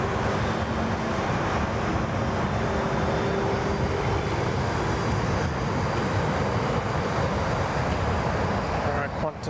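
A Q-Link aircraft taking off from runway 34 left at Sydney Airport gives a loud, steady broadband engine roar that holds unbroken for the whole stretch, close by and without letting up.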